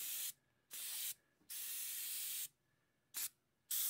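A budget DIY ultra-quiet compressor driving an airbrush that sprays water, in several short bursts of soft, even hiss separated by near-silent pauses, close and alone.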